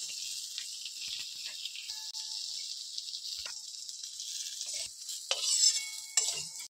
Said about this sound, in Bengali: এটাকে আমি ভালোভাবে কিছুক্ষণ ধরে ভেজে নিব